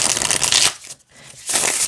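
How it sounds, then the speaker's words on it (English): A Rider Waite Smith tarot deck being shuffled, with two bursts of close, crisp riffling separated by a short pause, heard alone without talk. "And it still shuffles fantastically."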